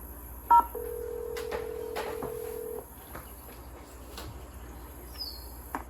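A telephone being dialed in the video game Nancy Drew: The Secret of Shadow Ranch: a single dial-tone-like beep and a sustained electronic tone sound over a quiet hum, with faint soft clicks afterward.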